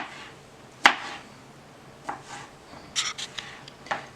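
A knife chopping tomatoes strikes a cutting board in a few sharp, scattered chops, one louder knock followed by lighter taps and scraping.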